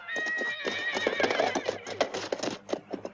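Several horses whinny and neigh in a Western-style setting, bright shrill calls rising over muffled hoof clatter and background bustle, fairly close and continuous.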